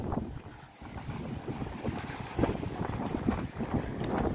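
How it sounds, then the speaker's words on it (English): Strong gusting wind on a street in central Haarlem, buffeting the microphone with a steady, rough roar that rises and falls, close and fairly loud, with no speech. "the wind makes it more boring because now it's like I gotta fucking walk through this wind right now"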